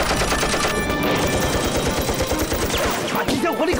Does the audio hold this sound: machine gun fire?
yes